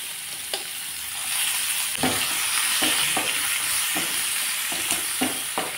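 Bay leaves and chopped onion sizzle steadily in hot tempering oil for a Bengali home-cooked dish, a continuous frying hiss with occasional stirring clatters and sharper pops, fairly close, with no talking.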